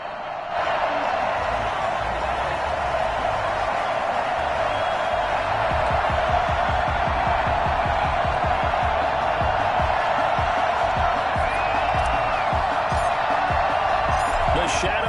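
Stadium crowd noise from an EA Sports NFL video game, Texans versus Titans, swells as a continuous roar with cheering, running steadily under a commentator's voice.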